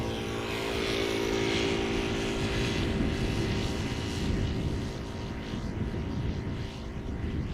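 KLM Embraer 195-E2 jet arriving at Schiphol Airport from Gdansk, a steady loud engine roar and rumble that holds across the whole stretch without talk.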